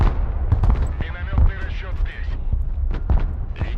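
Heavy artillery in the video game Broken Arrow, with repeated low booming impacts and rumble close by, mixed under excited talking.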